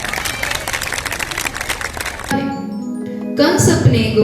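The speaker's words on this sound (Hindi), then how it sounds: "इनका जोरदार तालियों से इनका हौसला बढ़ाएं।" Audience applause at a school Krishna Janmashtami celebration, a lively round of crowd clapping for about two seconds that cuts off abruptly, followed by music-like tones and a brief voice.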